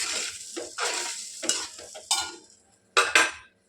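Food being stirred in a pan with a spoon, a series of distinct scraping strokes in irregular bursts over a quiet background, close and fairly loud, no talking.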